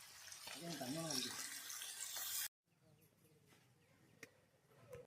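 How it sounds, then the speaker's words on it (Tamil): Water pours steadily into a cooking pot for crab gravy for a couple of seconds and then stops abruptly, with a faint voice underneath and quieter room sounds after. "இப்போ ரெண்டு வேகிறதுக்கு தேவையான அளவுக்கு தண்ணி ஊற்றிக்கலாம்"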